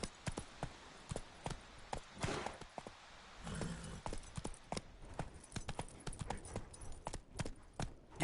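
Horse hooves clip-clop steadily in a video game as the animal is ridden, a quick, regular run of hoofbeats that stays close and fairly loud throughout, with no talking over it.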